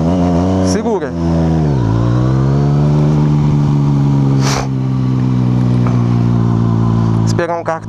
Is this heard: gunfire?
no